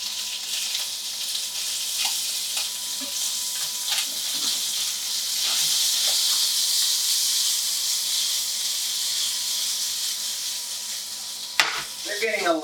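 Potatoes pan frying in oil give off a steady, bright sizzle close by, with occasional taps and stirring clatter from the pan and a brief louder scrape near the end.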